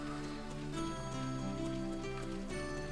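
Soft, steady rain patters in the video game World's Dawn, a faint pattering wash heard alongside a gentle tune throughout.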